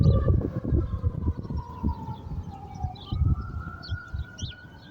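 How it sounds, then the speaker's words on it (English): Wailing sirens sweep past, their pitch rising and falling, with rumbling traffic noise underneath and no one talking. "as the sirens go"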